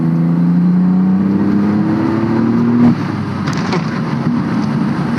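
A Mitsubishi Legnum VR-4 wagon's 1990s twin-turbo engine revs hard and close, its droning note climbing steadily before breaking into a rougher, noisier roar.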